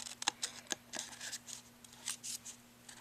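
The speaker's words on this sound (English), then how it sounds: "I'm going to take these lovely cutter bee scissors." Cutter Bee craft scissors snipping card paper while making birthday cards: a quick series of crisp, close snips in an irregular rhythm, with soft paper rustles between cuts.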